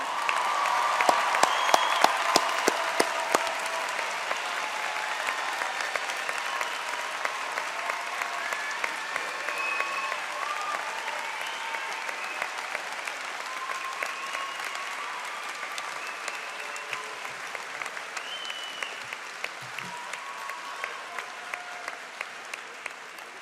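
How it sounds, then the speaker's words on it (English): A graduation ceremony audience for social sciences graduates bursts into sustained applause, loud at first and then settling into steady clapping that carries on for over twenty seconds, with faint voices in the crowd. "let's give them a round of applause"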